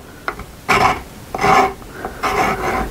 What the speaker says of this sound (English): Oh, I wish this gunsmith school rasp was still in good shape.